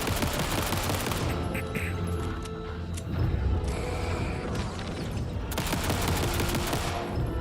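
Dense, continuous gunfire and crashing action from Alan Wake II on PS5 Pro roll on for several seconds, loud and busy, with brief lulls and no voices.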